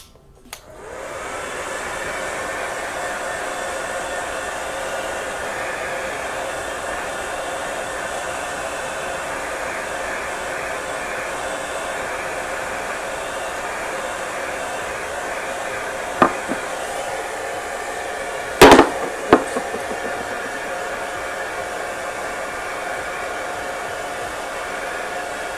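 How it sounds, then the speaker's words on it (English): A hair dryer blows a steady, loud whir to dry paint, running continuously, with a few brief clicks and knocks near the end. "I'm going to dry it out using this hair dryer"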